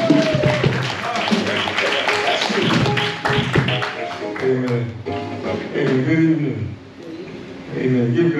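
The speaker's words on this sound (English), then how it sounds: "Give God a big hand clap of praise." A congregation at a gathering of church pastors giving a hand clap of praise, a run of sharp claps in the first few seconds under a preacher's voice, then continued talking.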